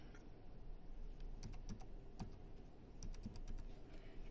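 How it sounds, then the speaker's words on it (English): Someone types a number on a computer keyboard while working in Excel, a short run of light, quick key clicks in small bursts over a low steady hum. "Now I'm just going to type in that number."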